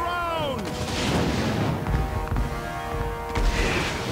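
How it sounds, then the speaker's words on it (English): Artillery barrage in the Total War: Warhammer II strategy game, a steady roar of booming blasts and crackling fire continuing throughout, with a couple of heavier impacts and some voices in the mix. "The barrage from this is so bad, I don't think anything's gonna survive it anyways."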